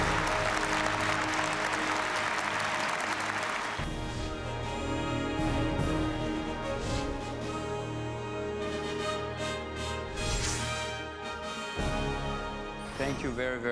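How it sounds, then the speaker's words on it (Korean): Forum audience applauding to welcome Jim Rogers at a think-tank event: a burst of crowd clapping for several seconds, then giving way to music-like tonal sound and voices carrying on through the rest. "여러분, 짐 로저스 회장께 큰 환영과 그리고 감사의 박수를 한번 보내주시면"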